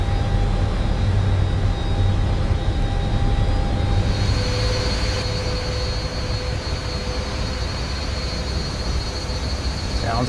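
Boeing 737 MAX 8 jet engines in Microsoft Flight Simulator 2024 give a loud, steady roar with a high whine. The tone shifts partway through as the engine note changes, continuous throughout with no speech.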